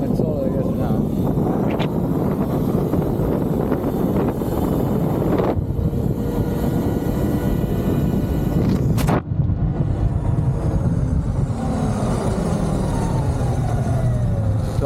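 Sur-Ron Light Bee electric dirt bike fitted with a Titan controller, ridden with steady loud wind-buffeted whine and rushing noise throughout, with brief sharp spikes and a shift in tone partway through.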